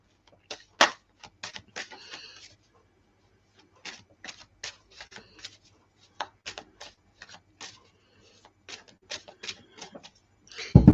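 Tarot cards being shuffled by hand, heard as sparse, close riffles and soft slaps in irregular bursts separated by quiet pauses, with a sharper tap near the start and a louder clatter at the end.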